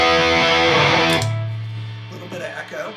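A Squier J. Mascis Jazzmaster electric guitar is strummed through an echo effect, one loud distorted chord that then rings out into a sustained low note with fading repeats.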